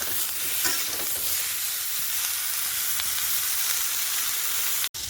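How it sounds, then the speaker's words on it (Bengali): Vegetables seasoned with salt and turmeric sizzle and hiss steadily in a hot pan as they are stir-fried, with faint stirring scrapes, close and continuous, no talking. "লবণ হলুদ দেওয়ার পরে সবজিটাকে একটু ভালো করে কষাই করে নেব।"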